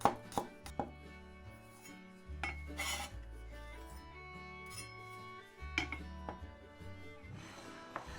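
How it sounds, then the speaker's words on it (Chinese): A knife chops garlic cloves on a board after they are smashed flat: a few sharp thumps, then a run of quick, close, crisp chops, with brief pauses between bursts. "接下来我们取点蒜粒，把大蒜拍碎，粗略的切一下就行了。"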